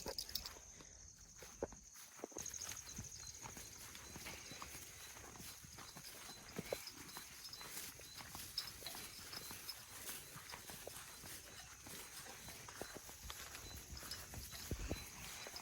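Irregular clopping of cattle hooves on hard ground as the cows walk along farmland, with faint outdoor ambience and insects in the background.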